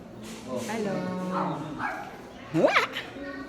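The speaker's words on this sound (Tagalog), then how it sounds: "Hello, ang cute ng aso." A dog gives a short bark or yip near the end, close by, following a person's friendly talk.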